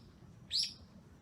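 A single bright bird chirp rises sharply out of a quiet, low background hum, brief and fairly close, then fades back to near silence.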